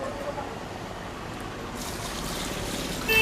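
Water pours steadily into a cooking pot for boiling marinated meat in a biryani kitchen, a continuous close splashing rush that swells louder just at the end.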